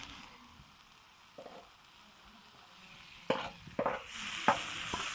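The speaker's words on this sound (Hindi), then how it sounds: "अब मैं ऐड करूँगा इसके अंदर नमक और काली मिर्च।" Salt and black pepper go into mutton gravy on a tawa, a faint low sizzle followed by a few sharp scraping and clinking strokes of a spatula against the hot metal.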